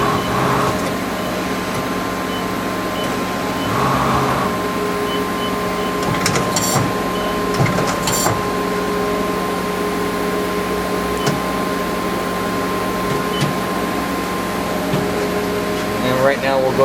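A Mori Seiki Frontier L1 CNC turning center with MSC 521 control and programmable tailstock runs with a steady mechanical hum and tonal whine, broken by a few brief clanks, fairly close throughout.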